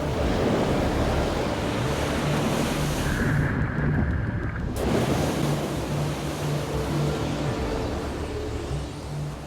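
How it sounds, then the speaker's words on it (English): An Atlantic storm batters the Irish coast, with roaring wind and crashing waves in a continuous, loud wash of noise, briefly dipping midway before the surf and gusts surge on again. "The force of the wind lashing land and sea is overwhelming."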